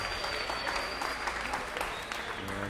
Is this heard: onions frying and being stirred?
no